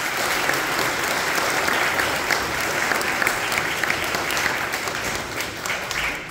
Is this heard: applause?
yes